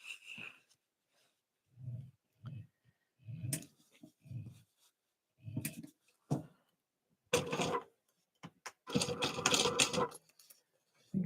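A sewing machine stitches around a tote bag in short, separate bursts at a regular stitch length, each run a close mechanical whir, with a longer busier stretch near the end.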